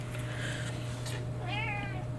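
A cat on a craft table meows once, a clear wavering cry over a steady low electrical hum and faint background noise.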